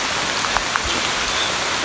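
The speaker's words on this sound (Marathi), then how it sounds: "खूप जोरदार इथं पाऊस चालू" Heavy rain pours down at Rajgad fort as a loud, continuous close-up hiss, with a few sharper drop taps standing out and no voices.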